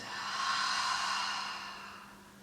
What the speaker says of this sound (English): Open your mouth and exhale everything out